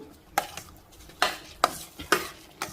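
Bobbatlu filling being stirred in a pan over high heat: a spoon scrapes and clacks against the metal in four or five sharp, separate strokes, with soft sizzling in between.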